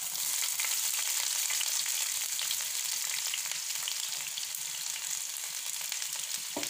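Chopped onion frying in hot oil with urad dal and chana dal, a dense, continuous bright sizzle heard up close and steady throughout.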